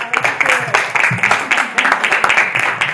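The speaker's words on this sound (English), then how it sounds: "I think we need to applaud" Audience applause after a talk on censorship, a dense patter of clapping hands filling the room at steady strength for a few seconds, with a voice briefly audible beneath it.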